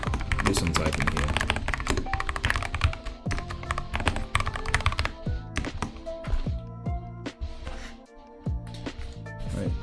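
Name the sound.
typing on a new computer keyboard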